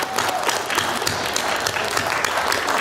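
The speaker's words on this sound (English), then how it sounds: "Give me a round of applause for you right now." Students at a morning candidate forum applaud loudly, with close, crisp clapping from a gathered crowd over the whole short burst and a voice faintly mixed in.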